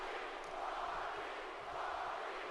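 Arena crowd in the WWE 2K18 wrestling video game chanting for The Rock, a steady dense roar of many voices with a broad chanting swell that holds throughout without any break.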